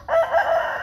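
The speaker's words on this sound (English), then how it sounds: "He's kind of big rooster." A big young rooster crows once at close range, a short, loud, strained call of under a second, standing alone without other sounds.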